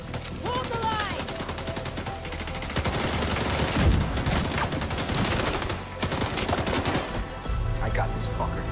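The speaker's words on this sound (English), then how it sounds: "Keep firing and take them out!" Gunfire fills a firefight in The Division 2 video game, with dense bursts of rapid automatic shots and scattered single cracks, loud and continuous, under faint shouted voices.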